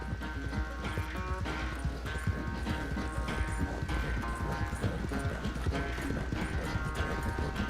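Horse hooves clip-clopping in the video game Red Dead Redemption 2, a steady rhythmic trot of hoofbeats mixed with creaking tack and mechanical clicks, close and continuous over a low rumbling bed.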